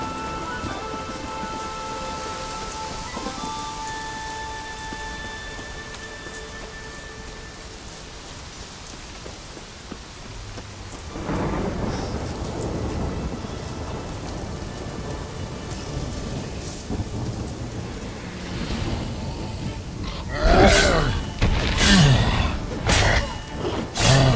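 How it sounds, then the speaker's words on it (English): Thunderstorm with rain in The Witcher 3 video game: a steady wash of rainfall, swelling around the midpoint, then several heavy, close thunder cracks and rumbles near the end. "Storm, damn it."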